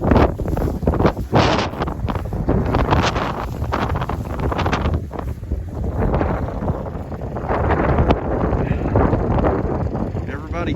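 Strong wind roars across a Kentucky farm during a freezing winter storm, heavy gusts battering the microphone throughout while a person talks over it.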